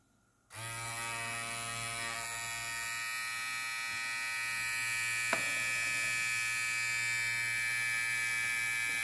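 Daling DL 1097 hair clipper, a Magic Clip trimmer replica, switching on and running with a steady, loud electric buzz and hum that continues alone, with a single small click partway through.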